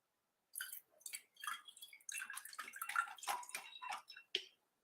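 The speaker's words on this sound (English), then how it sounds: "put water inside the bulb" Water splashes and trickles in short, faint bursts as it is poured into a bulb for a spring-themed craft, several separate pours with gurgling in between.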